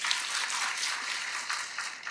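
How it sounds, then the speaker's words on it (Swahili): An audience at a public security meeting in Siaya County breaks into applause again: a short, even burst of many people clapping together, with no voice heard above it. "Makofi tena."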